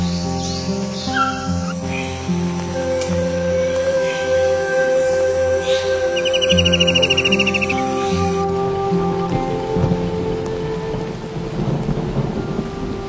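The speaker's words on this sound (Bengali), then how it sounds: "হঠাৎ করেই মুষলধারে বৃষ্টি শুরু হলো।" A sudden heavy downpour falls over the Sundarban forest, with rumbling thunder and a dense rain wash that thickens near the end, under steady synthetic musical tones.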